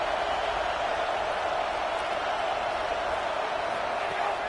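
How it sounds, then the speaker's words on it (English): A stadium crowd cheers in a college football video game, Miami at Virginia Tech, as a continuous loud roar of massed voices that holds steady throughout and never stops. "Man, this crowd really affecting the football game."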